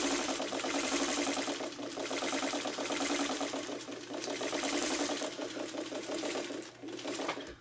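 A sewing machine stitches a curved quilting seam in near-continuous runs of rapid needle pulses, loud and close, easing off briefly before resuming toward the end.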